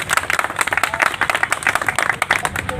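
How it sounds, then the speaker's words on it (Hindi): Audience clapping welcomes someone at a formal gathering, with fairly close, uneven hand claps from a modest crowd over a few seconds. "स्वागत ताली के साथ में"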